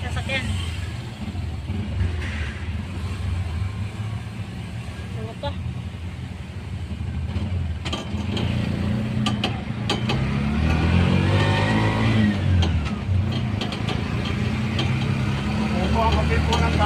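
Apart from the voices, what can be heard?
traffic, many cars and vehicles driving on a Quezon City road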